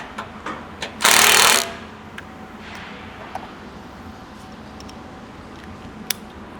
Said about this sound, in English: And we want to torque those bolts back up as well.